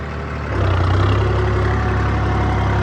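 A New Holland 3630 tractor engine is revved up to about 1500 RPM, jumping from idle to a loud, steady, deep droning hum that holds close and constant.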